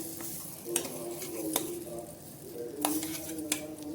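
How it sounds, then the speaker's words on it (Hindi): Spices and coriander being stir-fried in a pan while making moong dal kachori, a soft steady sizzle with scraping spatula strokes and a few sharp clinks of the utensil against the metal. "अब इन सभी चीज़ों को अच्छे से हम मिक्स करके भून लेंगे"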